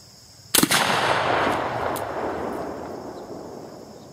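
A black powder muzzleloader rifle, a CVA Bobcat or T/C Hawken left loaded for ten months, fired once at a milk jug on a range: one loud close boom followed by a long, slowly fading rumble.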